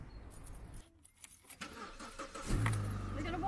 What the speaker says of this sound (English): Why have you got the engine on?